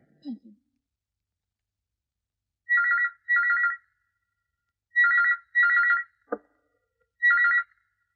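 A telephone ringtone trills in five short electronic bursts, grouped in pairs with brief pauses between, clear and close in an otherwise quiet room.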